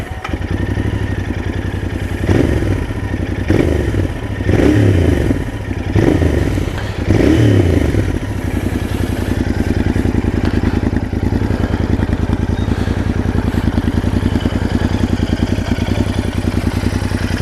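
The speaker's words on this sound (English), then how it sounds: "let's give her a start up and you can hear it then" A Royal Enfield Interceptor 650 motorcycle engine cranks with a few loud, uneven bursts, then settles into a steady, throbbing idle up close.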